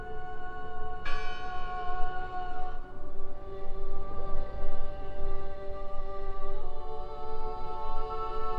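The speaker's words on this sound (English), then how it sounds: "Listen! The bell!" A church bell rings in the video game Draugen, heavy, sustained tolls whose ringing overtones hang over a steady rumbling background, sounding fairly loud and near with no voices over it.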